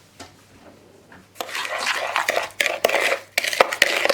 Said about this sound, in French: on va travailler notre beurre avec le sucre